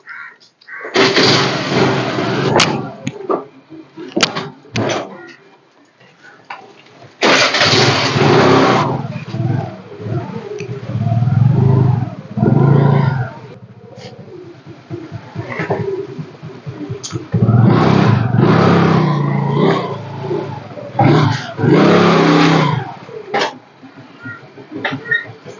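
A repaired scooter's engine is started and revved in bursts, loud and close, with idle gaps between the revs and a few coughs or throat-clearing sounds mixed in.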